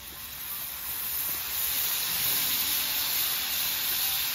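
Steak sizzles and steams on a hot hibachi griddle with a steady, broad hiss that swells slightly midway and holds constant, close and uninterrupted, with no talking.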